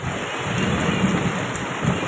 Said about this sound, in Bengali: আকাশ তো পুরো অন্ধকারে ছেয়ে গেল, তার সঙ্গে হালকা হাওয়া বইছে, মেঘ ডাকছে, বিদ্যুৎ চমকাচ্ছে।